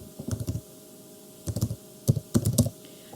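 Bursts of typing on a computer keyboard, a few quick keystroke clusters separated by short pauses, close and clear with no talking.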